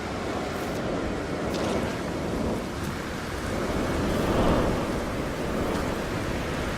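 Storm on an ocean planet in the No Man's Sky video game, a steady roaring wash of wind and rain with rolling surf-like swells and low rumbling, heard alone with no talk.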